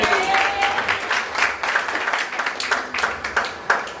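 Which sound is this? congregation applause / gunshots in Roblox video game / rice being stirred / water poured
congregation applause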